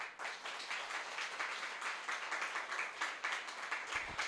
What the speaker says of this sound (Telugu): పరిశుద్ధాత్మ దేవునికి గట్టిగా చప్పట్లు కొడదాము.